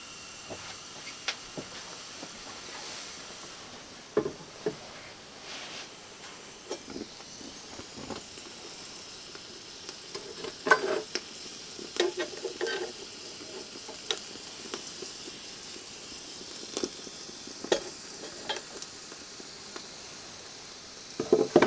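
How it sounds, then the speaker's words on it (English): A BCB-style alcohol stove burns with a soft, steady hiss, broken by scattered small ticks and pops, quiet and close. "So there we've got effectively just the BCB stove, the equivalent of the BCB stove."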